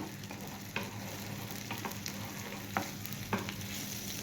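Chopped tomatoes and onion fry in a pan with a steady, close sizzle, broken by a few sharp clicks and scrapes of stirring; no one speaks.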